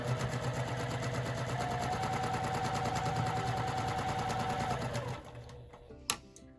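Sewing machine running steadily as it chain-stitches quilt pieces for a Duckworth-style quilt with leaders and enders, a continuous close whirring hum that stops near the end, followed by a brief click.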